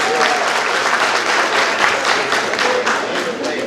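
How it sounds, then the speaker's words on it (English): Audience at a university academic scholarship awards program applauds a recipient walking to the stage, loud sustained crowd clapping with faint voices mixed in. "Let's give Reggie some applause"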